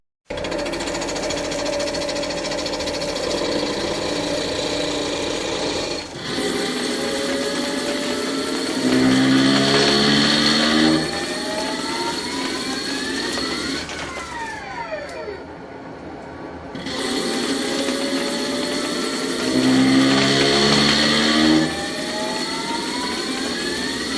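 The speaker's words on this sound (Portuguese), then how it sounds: "no caso de um faseamento no torno, por isso que às vezes você escuta aquela aceleração do torno" A CNC lathe spindle speeds up while facing a part, giving a loud machine whine with rising harmonic sweeps that repeat in two similar cycles with no talk.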